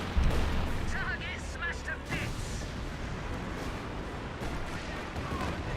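Artillery barrage in Company of Heroes 2, a heavy opening boom followed by a rumbling din of distant blasts and battle noise, with a commentator talking over it.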